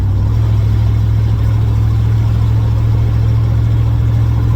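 A modified third-generation Camaro engine idles loudly up close, a steady deep rumble with a strong low drone that holds even throughout, with no one talking.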